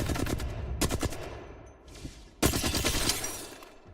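Automatic gunfire in the Apex Legends video game, with rapid close bursts of shots separated by short gaps and a longer sustained burst in the second half.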